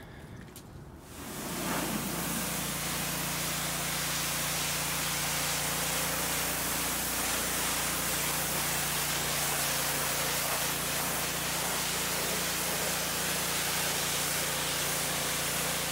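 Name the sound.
hose spraying water rinsing Jeep Wrangler tires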